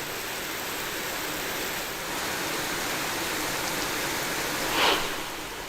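Heavy rain in Ratnagiri district pours as a dense, steady broadband wash, loud and unbroken throughout, with a brief swell near the end and no voices.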